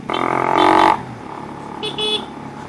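A car horn honks in a long sustained blast, then two shorter toots follow a moment later, loud and close over low background noise.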